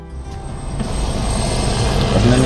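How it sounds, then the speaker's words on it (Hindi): A helicopter flying below on the road from Guptkashi to Gaurikund drones continuously, growing slightly louder, with a faint high whine above it. "अपने नीचे हेलीकॉप्टर उड़ रहा है"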